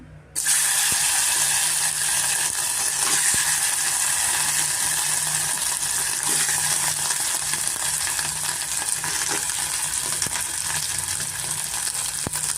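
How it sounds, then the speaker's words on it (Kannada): Boiled potatoes frying in oil on a medium flame, a loud, continuous, close-up sizzle with bright hissing crackle that starts abruptly and holds steady throughout, with no talking. "ಸ್ವಲ್ಪ ಮೀಡಿಯಮ್ ಫ್ಲೇಮಲ್ಲಿ ಸ್ವಲ್ಪ ನಾವು ಪೊಟೆಟೋನ ಫ್ರೈ ಮಾಡ್ಕೊಬೇಕಾಗತ್ತೆ"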